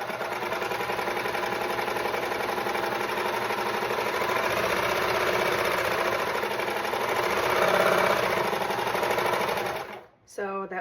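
A serger overlocker runs steadily for about ten seconds, a fast, even mechanical whirr of stitching through fabric, close and moderately loud before stopping abruptly.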